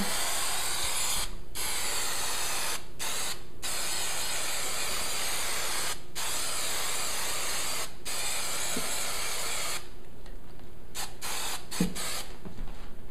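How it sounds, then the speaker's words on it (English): Repeated bursts of spray hiss, a steady spraying with brief pauses between pulls of the trigger, close and fairly loud. "And then going over to the bag, we're going to spray this part."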